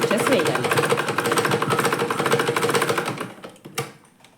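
A sewing machine runs steadily for about three seconds, stitching the neck and shoulder seams of a basic salwar top, then slows and stops with a few scattered clicks.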